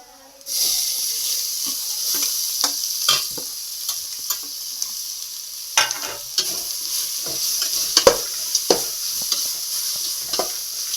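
Grated carrots for carrot halwa stir-fry in a hot pan, giving a steady close sizzle broken by repeated scraping stirs of the spoon, with no talking.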